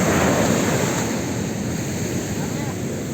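Sea waves wash steadily onto Madhavpur beach in a continuous, loud roar of surf, with wind buffeting the microphone throughout.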